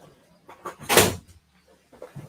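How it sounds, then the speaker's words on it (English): A single door closes in a house for sale, one fairly loud thud in the middle of the moment, with quieter knocks and movement around it. "You gotta close the door back?"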